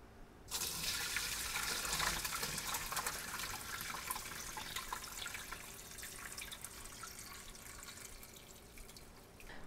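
Steeped sorrel juice pours and splashes through a strainer at a kitchen sink, a steady rushing liquid stream lasting nearly ten seconds, close and even in level, with no talking.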